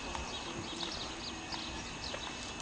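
Horse hooves clip-clopping steadily in a series of light, regular thuds, close by, while the animal is handled slowly and calmly in a riding setting.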